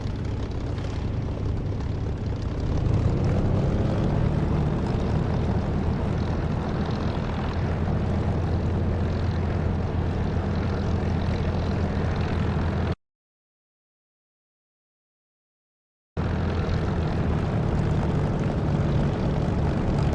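Spitfire engine taxiing in a DCS flight simulator game, a loud continuous propeller drone that rises slightly, then cuts to total silence before resuming.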